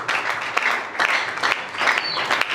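A church congregation applauding at a Sunday worship service, a steady wash of clapping hands with a few sharper bursts, sustained and fairly full.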